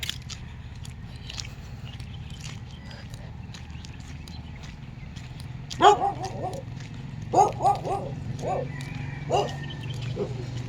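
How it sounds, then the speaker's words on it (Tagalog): Dogs bark outside houses along a residential road during an early-morning walk, in a few short bursts of yelps partway through, moderately near, over a steady outdoor hum and footsteps, with someone talking. "Kaso, madaming aso dito na sa labas."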